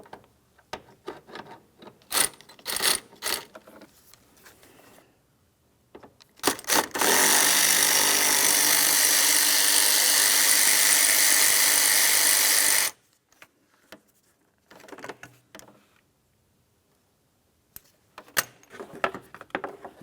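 A tool works on 10mm bolts at the radiator of a 2002-2005 Ford Explorer: scattered clicks and ratchet-like snaps, then a loud continuous whirring burst lasting several seconds, followed by more sparse metallic clicks and handling noises.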